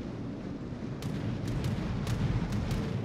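Naval guns firing in the World of Warships game: a series of sharp booming shots, roughly half a second apart, over a steady engine and sea rumble.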